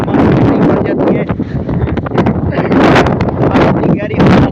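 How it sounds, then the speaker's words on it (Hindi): Strong, gusty wind roars and buffets the microphone continuously, loud and broadband with surging peaks throughout. "इतनी तेज हवा, पहले तो तेज हवा चल रही है।"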